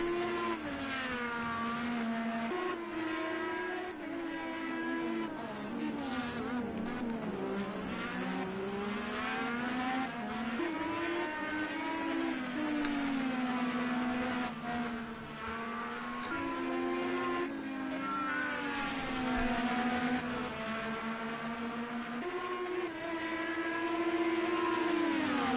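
IndyCar racing cars in Project Cars 2 scream at high revs, pitch rising and falling through gear shifts and corners, a loud continuous whine with overlapping engines and no talk.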